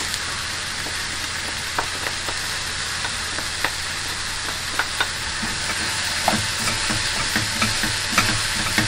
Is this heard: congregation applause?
no